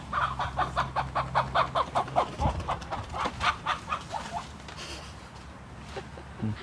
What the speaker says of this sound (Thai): ไก่บิน